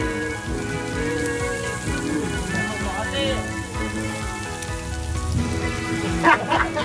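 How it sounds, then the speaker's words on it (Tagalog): Heavy rain with big drops falls steadily on a hillside, a dense wash of patter across the whole stretch, with voices speaking and calling over it and a louder burst near the end. "Malaki po yung patak ng ulan dito."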